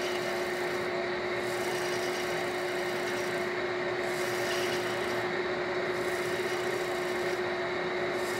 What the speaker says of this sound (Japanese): こういう丸いヤスリで 当てて